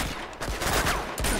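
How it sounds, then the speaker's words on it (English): Rapid, dense gunfire from a pistol-style shotgun in Uncharted 2: Among Thieves, loud and continuous over a short burst amid heavy game noise. "It's a shotgun pistol."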